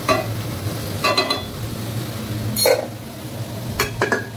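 Food sizzles steadily in a frying pan at home while a utensil scrapes and stirs it in a few short bursts, close and moderately loud.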